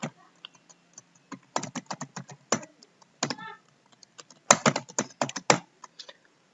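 Quick, close clicks from a computer keyboard as a postal code is typed into an MS Word biodata form, coming in short irregular bursts of keystrokes with brief pauses between them and no talking.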